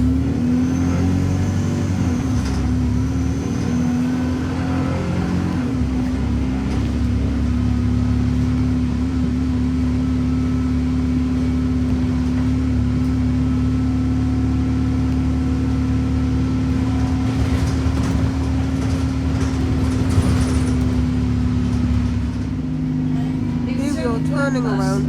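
A Stagecoach route 20 bus in Hemyock village idles and manoeuvres as it turns around, a steady low engine hum with a whining tone and occasional rattles, while a voice speaks over it.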